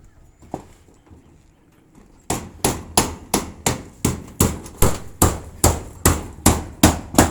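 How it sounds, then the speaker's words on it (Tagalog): Umbrella nails are hammered through corrugated metal roof sheeting on a small house, about a dozen sharp, evenly spaced metallic blows ringing close and loud after a brief quiet start. "Paikutan nila ng epoxy bago ipako sa umbrella nail."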